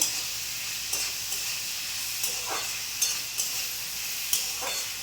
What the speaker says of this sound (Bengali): ঢ্যাঁড়স আর মাছ একসাথে দিয়ে দিলাম দিয়ে একটু কষে নেবো